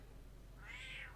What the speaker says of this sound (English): Say hi to my cat.